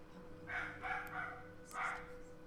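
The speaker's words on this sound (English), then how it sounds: "Man, they're barking for a while. Bloody dogs." Dogs barking in Total War Rome 2, several quick faint barks in two short bursts over a low steady background hum.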